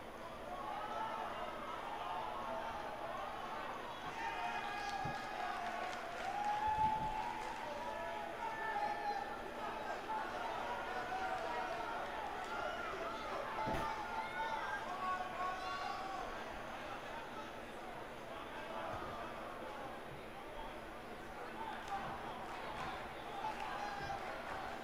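A sold-out arena crowd in the wrestling video game WWE 2K19 keeps up a steady, fairly distant roar and murmur beneath a commentator's continuous talk.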